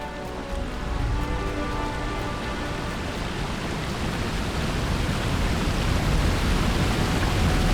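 A waterfall in the video game Lord of the Rings Online roars as a dense, continuous broadband rush of falling water, loud and close, unchanging for the whole stretch with no voices.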